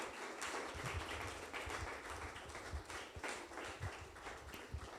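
A church congregation claps loudly together at the pastor's call, a dense, steady wash of applause with scattered sharper claps across the whole span, no voices on top.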